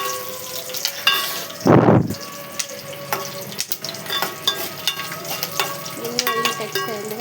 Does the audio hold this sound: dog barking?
no